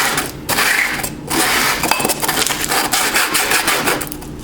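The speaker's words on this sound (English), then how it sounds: "you want to twist on your piece of sandpaper" A homemade alcohol stove part is sanded with sandpaper in a twisting motion: close, loud rasping scrapes in repeated bursts with short pauses between strokes.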